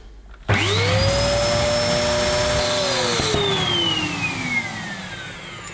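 New, unused Dyson DC01 upright vacuum cleaner switched on: an abrupt start into a loud, steady whine with a rising then slowly falling pitch, running continuously and close by, no voices.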